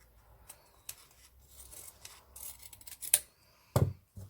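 Scissors trimming the uneven tails of a cheer hair bow ribbon: a handful of soft, scattered snips and rustles, close by and quiet, with one sharper cut near the end.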